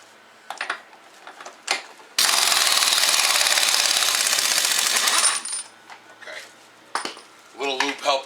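Impact wrench spinning off the front axle nut on a 2003 Chevrolet Suburban, one loud continuous burst of about three seconds, with softer clanks and tool handling before and after.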